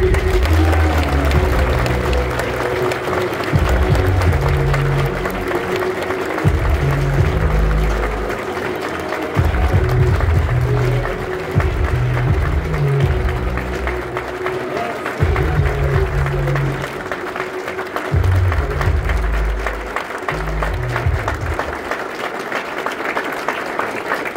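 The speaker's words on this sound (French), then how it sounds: "on va tellement applaudir que les mains là seront rouges" A crowd at an event applauds in sustained bursts, with heavy low thumping from music or drums running underneath throughout.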